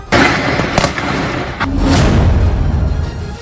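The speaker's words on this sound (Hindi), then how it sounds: "तभी अचानक वहां जोरदार फायरिंग शुरू हो गई।" Heavy gunfire erupts at an Israeli police station during a Hamas attack, loud sharp bangs and crackling bursts over a sustained roaring din, with no talk.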